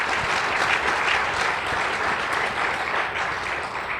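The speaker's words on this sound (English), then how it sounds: "Round of applause." Sustained applause from the audience at a public forum on police carding and rights. It is a steady, full crowd clapping wash that stays loud throughout and eases slightly toward the end, with no talking.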